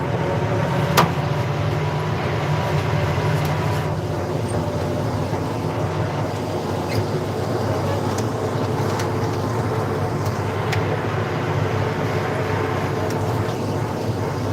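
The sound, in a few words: tractor pulling a 22-foot Wishek breaking disc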